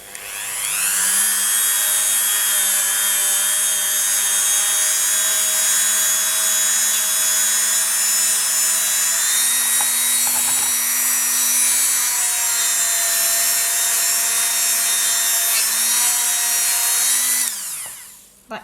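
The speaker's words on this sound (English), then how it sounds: "Now I'm just going to take a buffing wheel and I'm going to give it a quick buff." A power buffing wheel spins up and runs steadily while polishing Renaissance wax on a piece, a loud continuous whine with tonal harmonics, a brief rub near the middle, then winding down at the end.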